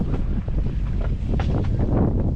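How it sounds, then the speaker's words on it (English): Strong wind rushing past the boat while sailing downwind along the west coast of Guadeloupe, a loud, continuous buffeting roar with gusty rises and falls throughout, no voices. "The wind has stayed behind us, kind of following the coastline around"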